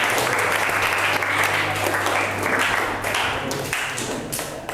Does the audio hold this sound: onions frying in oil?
no